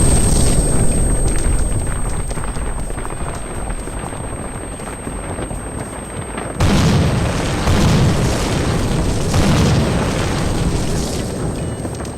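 A powerful explosion from the atomic bomb dropped on Nagasaki, a deep sustained roaring rumble that swells again midway, loud and continuous with no voices.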